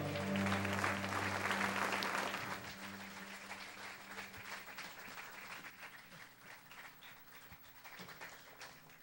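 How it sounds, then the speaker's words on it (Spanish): A church congregation applauds, starting as a full burst of clapping and then thinning out over several seconds, with some faint voices mixed in. "le damos un fuerte aplauso a nuestro Señor y Salvador"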